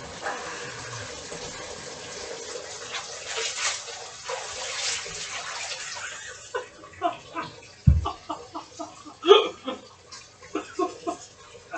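Hot water runs into a bath in a steady, hissing gush at first, then thins out and breaks into intermittent splashes and knocks, with a voice speaking faintly in places.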